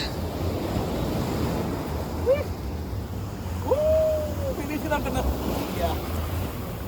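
Ocean waves wash steadily onto a beach in Da Nang, Vietnam, a continuous broadband surf roar with wind buffeting the microphone and a few faint voices in the distance.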